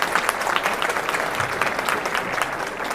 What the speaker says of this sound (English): another round of applause for the amazing work that they're doing in the community